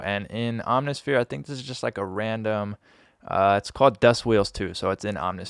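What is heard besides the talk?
None of the usual background noises is heard.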